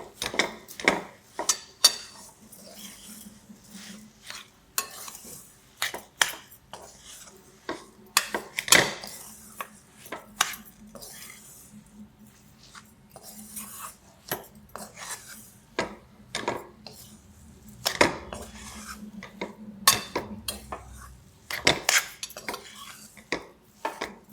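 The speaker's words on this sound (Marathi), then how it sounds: "साखर टाकून घेऊया चांगलं मिक्स करून घेऊया" Sugar being stirred into moong dal halwa in a pan: repeated metal scrapes and clinks of a spoon against the pan in an irregular rhythm, close and clear, with a few quiet voices.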